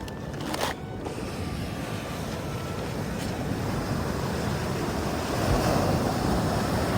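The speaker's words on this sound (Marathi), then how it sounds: "तर समुद्राच्या लाटांच्या आवाजामुळे होणार आहे" Sea waves breaking on a Konkan beach, a continuous loud wash of surf with rolling swells and wind buffeting the microphone, no voices.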